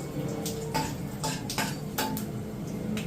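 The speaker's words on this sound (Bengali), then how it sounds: "ফোড়নটাকে একটু 1 মিনিটের মতো নাড়াচাড়া করে নেব।" Whole spices for a tempering are stirred in hot oil in a pan, a utensil scraping and clinking against the metal in several separate strokes over a low steady background, close by.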